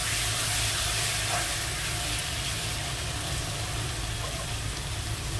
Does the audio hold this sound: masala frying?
yes